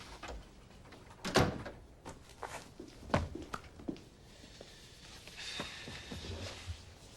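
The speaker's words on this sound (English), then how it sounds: "Come on in and close the door." A door swings and closes with two sharp knocks and a scatter of lighter clicks and rustles, near and moderately quiet, without speech.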